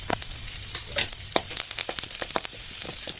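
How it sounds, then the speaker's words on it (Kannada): Chopped onion, green chili, curry leaves and cumin frying in oil, a continuous close hiss dotted with quick sharp crackles and pops, no talking. "ಸ್ವಲ್ಪ ಎಣ್ಣೆ, ಸ್ವಲ್ಪ ಜೀರಿಗೆ, ಚಿಕ್ಕದಾಗಿ ಹೆಚ್ಚಿರೋ ಆನಿಯನ್, ಚಿಕ್ಕದಾಗಿ ಹೆಚ್ಚಿರೋ ಕಾಯಿ ಮೆಣಸು ಹಾಗೂ 2-3 ಕರಿಬೇವು ಸೊಪ್ಪು ಇದನ್ನು ಹಾಕಿ ಚೆನ್ನಾಗಿ ಫ್ರೈ ಮಾಡ್ಕೊಳ್ಳೋಣ"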